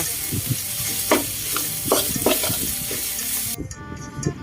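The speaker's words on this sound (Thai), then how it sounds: "เมื่อใส่หมูสับลงไปแล้ว ผัดไปผัดมาสักแป๊บหนึ่งนะคะ จนกว่าพริกแกงกับหมูสับจะเข้ากันดีค่ะ" Minced pork stirred and fried with curry paste in a hot pan: steady loud sizzling with repeated scraping strokes of a spatula, close up, then cutting off near the end, no talking.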